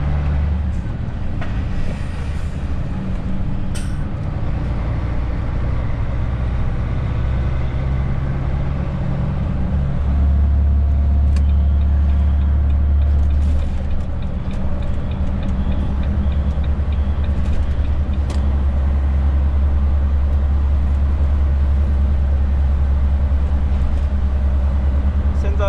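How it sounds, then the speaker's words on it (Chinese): Volvo FM420 manual truck climbing Dapingding, with a loud, steady low engine drone under engine braking that deepens and swells midway, a voice talking over it throughout. "挡煞就是把引擎的转速拉起来，然后靠你的引擎刹车帮你辅助啊"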